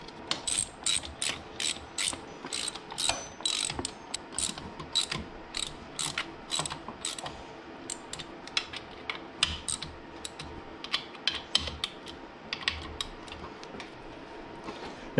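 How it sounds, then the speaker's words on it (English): A ratchet tightening bolts on a J37 throttle body mounted to a car supercharger: rapid bursts of close clicking pawl strokes, repeated in quick runs with brief pauses between them. "But I'm gonna go ahead and bolt it in."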